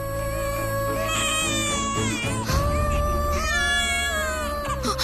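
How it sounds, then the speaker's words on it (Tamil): A newborn baby wails loudly and continuously in long, rising and falling cries, close and unbroken, over a steady background hum. "இங்கதான் எங்கேயோ பக்கத்துல குழந்தை அழுகிற சத்தம் கேக்குது"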